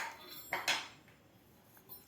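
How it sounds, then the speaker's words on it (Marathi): A pressure cooker lid being taken off after the cooker has cooled, holding cooked pav bhaji vegetables: two quick metallic clinks close by in a quiet kitchen, then near silence. "तर आता झाकण काढून घेऊया"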